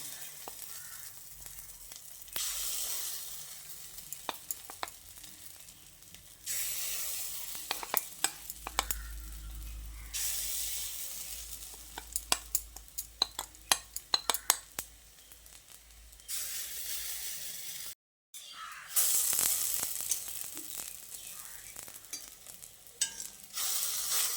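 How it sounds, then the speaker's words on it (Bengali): Fritters fry in a pan with a bright, hissing sizzle that swells and fades in waves, broken by sharp spatula clicks and scrapes, close up and without talking. "ওই একইভাবে আমি বাকি বড়াগুলোকেও ভেজে নিচ্ছি"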